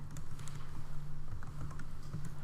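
Computer keyboard keys tapped in a quick, even run of soft clicks over a steady low hum, close by and fairly quiet, with no voices.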